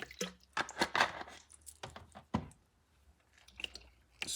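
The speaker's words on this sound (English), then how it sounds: "Squeeze a lime." A lime squeezed by hand over raw chicken gizzards, giving several close, wet squishing bursts and juice drips with quiet pauses between, no talking.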